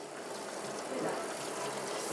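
Warm water runs from the tap of a hand-wash basin in a commercial kitchen, a steady close hiss of flowing water with no clear break.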